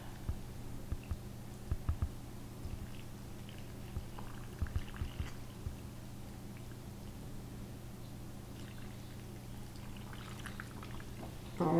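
Vegetable and chicken broth poured into a pot for butternut squash soup, a faint, continuous liquid splash with a few small clinks, heard alone without speech.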